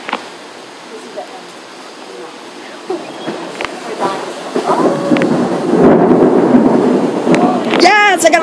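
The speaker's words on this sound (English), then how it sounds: "Yes, I got a lightning strike on video." Thunder from a lightning strike rumbles in a severe New York thunderstorm, building into a loud, rolling roar after a quieter start. People are heard excitedly talking and exclaiming over it toward the end.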